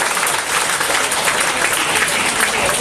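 A church congregation bursts into loud, sustained applause, dense clapping filling the hall steadily without pause.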